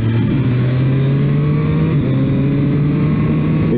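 A Triumph Street Triple 765 R motorcycle pulls hard on a wet road, its loud engine note holding and climbing steadily over a few seconds, heard close with no talk.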